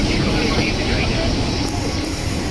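Steady broadband cabin roar at the very back of a JAL airplane, a constant loud engine and airflow rumble with faint voices in the background.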